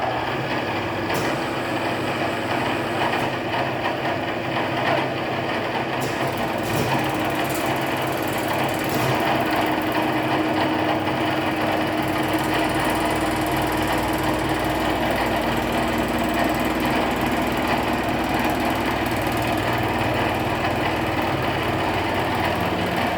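A Fulton bead roller presses a bead into sheet metal, producing a continuous mechanical whir and hum that holds steady throughout, with no talking.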